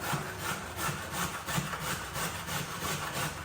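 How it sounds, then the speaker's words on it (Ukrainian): Carrots being grated on the coarse side of a grater while making plov with meat, a steady rhythmic rasping of back-and-forth strokes, close and fairly loud with no talking. "Беру я моркву тепер натираю на великій."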